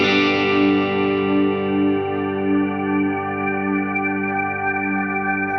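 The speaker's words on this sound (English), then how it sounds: "as I increase the mash pressure, I get more decay on the reverb" An electric guitar chord rings out through a lush shimmer reverb from a TonePrint pedal, controlled by an expression pedal, its bright, layered tail sustaining and slowly fading.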